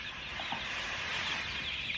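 Chickens settling to sleep in their coop give soft, faint clucks and murmurs at close range, with a few brief calls standing out over a steady background hiss.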